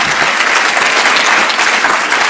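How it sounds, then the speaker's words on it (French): Audience applause at a sleep and shift-work conference, a dense, loud, sustained wash of many hands clapping with no talk over it. "On peut applaudir, oui."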